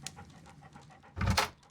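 A dog panting in the Sherlock Holmes: Crimes and Punishments video game, quick breathy huffs close up, swelling into a louder burst near the end, with no speech.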